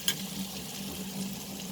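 Two tablespoons of butter sizzle and fry steadily in a pan as the base for butter chicken gravy, a close continuous crackle with a brief clink at the start.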